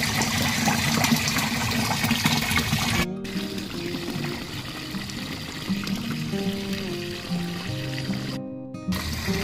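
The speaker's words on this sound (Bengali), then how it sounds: "তো জলটা ভরে গেছে" Water pours steadily into a container of bacterial mother culture solution being mixed for a rooftop garden, a continuous close trickle and splash with brief breaks, shifting in pitch as the vessel fills.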